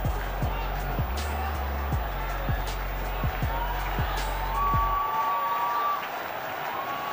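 A cricket stadium crowd roars and cheers as a batsman hits six after six, a dense, steady wall of cheering under excited commentary with rhythmic low thumps in the first part.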